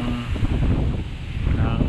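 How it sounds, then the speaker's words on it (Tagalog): Strong northeast monsoon wind, the amihan, roars steadily over open water, a dense, continuous buffeting rush that fills the whole stretch without any break. "Napakatindi po ng ng hangin-amihan"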